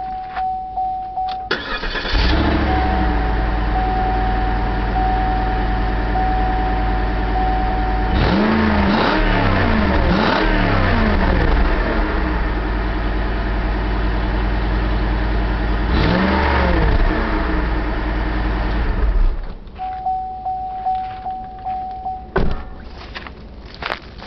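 A 2008 Cadillac DTS engine cranks and starts, then idles and is revved several times in clear bursts before settling and shutting off, close up with no talking.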